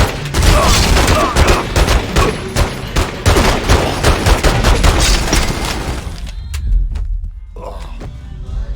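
Heavy gunfire in The Godfather II video game, rapid automatic bursts and booming shots firing in dense overlapping volleys, loud and close, then breaking off into a few scattered single shots with a voice calling out amid the fight.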